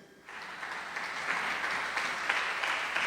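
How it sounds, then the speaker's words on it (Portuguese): A church congregation claps, applause rising within the first moment into a dense, steady wash of many hands that continues evenly to the end, moderately loud and slightly distant. "Você pode aplaudir o Senhor mais uma vez, bem forte."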